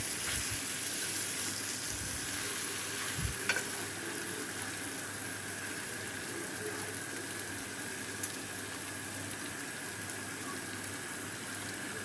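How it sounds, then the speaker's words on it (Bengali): Fish frying in a small wok, stirred now and then, with a steady close sizzle and occasional scrape or knock of the pan against the stove. "মৌসুমিটা দেওয়ার পরে ভালোভাবে নেড়ে চেড়ে নেব।"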